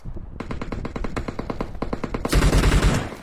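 An MG13 machine gun firing in a video game, rapid, evenly spaced rounds in a sustained burst, then a louder, denser stretch of gunfire near the end.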